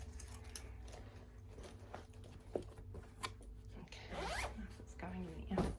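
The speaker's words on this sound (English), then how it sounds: "Sorry about the zip noise," The zipper on a fabric cross-stitch project bag is pulled in several quick rasping bursts close by, growing louder toward the end, between quiet moments of someone speaking.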